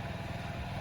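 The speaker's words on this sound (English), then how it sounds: "go ahead and run the engine to get the oil warm" A 2022 Honda Ruckus scooter engine runs steadily to warm the oil, a close, loud, continuous putter with no talk.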